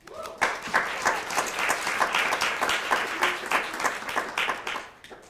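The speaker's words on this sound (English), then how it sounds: "So I'm going to give another hand of applause." A crowd at a DEI certificate ceremony claps warmly, a fairly even wash of applause with a few sharper individual claps, rising quickly and fading out at the close.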